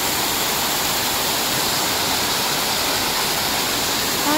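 A waterfall in Hong Kong Park pours in a steady, loud, unbroken rush of water that fills the whole stretch without pause.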